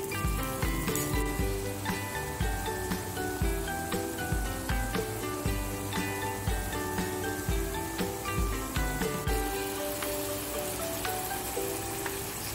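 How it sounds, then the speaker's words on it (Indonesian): Carrots and cauliflower stir-fry in a pan for a mushroom and chicken chop suey, giving a steady, dense sizzle with light clinks of stirring throughout, close and fairly loud with no voices. "Kita masak wortel sama kembang kolnya biar agak layu."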